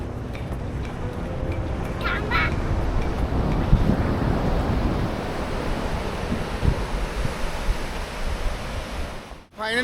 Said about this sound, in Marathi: आरावीचा हा समुद्र किनारा खूप शांत आहे.